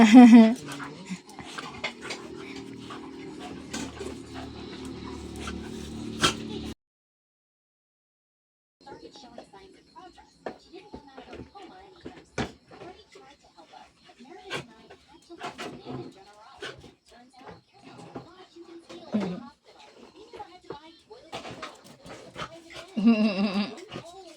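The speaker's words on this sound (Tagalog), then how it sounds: "And look our dog and cat playing." A dog pants and whimpers in short bursts while playing with a cat at close range, with a pause partway through and light rustling movement around it.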